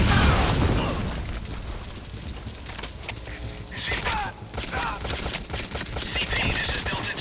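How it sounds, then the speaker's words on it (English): A grenade detonates in the stealth video game Metal Gear Solid V, a loud burst at the start decaying into rumble, followed by scattered crackling, clattering impacts and debris noises, with faint voices in the mix. "Detonation in the area."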